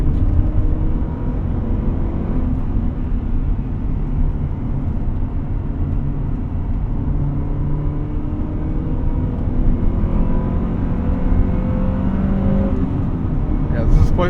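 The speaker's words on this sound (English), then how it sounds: "Finally getting used to rev matching there. Heel toe rev matching." A 1998 Honda Prelude Type SH engine during heel-toe rev-matched downshifts, heard from inside the car as a steady, close drone with brief rev swells rising and falling through the cabin noise.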